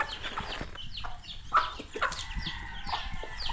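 Pet chickens on a farm clucking before feeding, a busy chorus of short clucks and calls from several birds at close range, with no talk.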